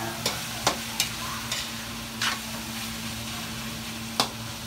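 Dinuguan sautéing in a pan, with a steady low sizzle and several sharp scraping stirs of a utensil spread across the clip.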